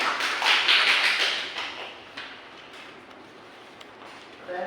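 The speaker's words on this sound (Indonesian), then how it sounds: "Beri tepuk tangan" A classroom group claps for a correct answer during an Indonesian history quiz: a burst of applause that swells early, then thins out into scattered faint taps.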